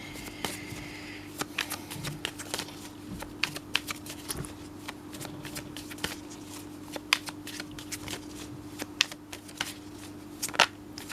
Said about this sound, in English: let's shuffle and see